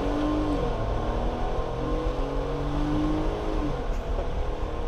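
A 2022 RAM 1500 Big Horn pickup truck pulls hard with traction control off, its engine droning loudly and steadily as the pitch climbs through gear shifts, heard from inside the cab.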